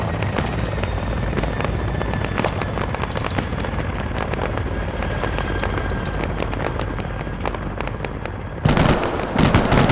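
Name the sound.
gunship helicopter arriving in a video game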